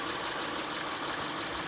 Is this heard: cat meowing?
no